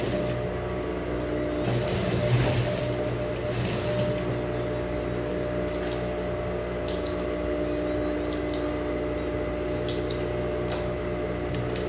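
A sewing machine hums and whirs steadily as it stitches a seam on a pocket of children's shorts, with a continuous motor drone and light mechanical ticking heard close by.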